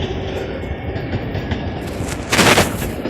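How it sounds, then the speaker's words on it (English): An L train pulls into the station with a steady, loud rolling rumble and rail noise. A sharper, brighter clatter swells near the end as the cars come close. "L train to come now"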